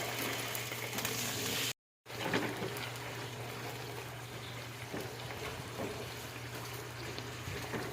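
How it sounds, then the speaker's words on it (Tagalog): Continuous sizzling and crackling of drained tuna frying in a pan, steady and close, with a brief dropout early on. "Medyo ipiprito-prito ko lang po hanggang sa matuyo siya."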